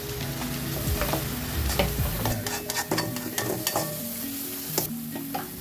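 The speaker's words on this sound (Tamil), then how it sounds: "மிளகாய்த்தூள், தனி மிளகாய்த்தூள், ஃபிஷ் மசாலா எல்லாம் போட்டு கொஞ்சம் கலக்கணும்" Chilli powder and fish masala being stirred into a fish curry with a ladle, making continuous scraping and clattering over a steady sizzle, with a few sharper knocks; close, with no voices.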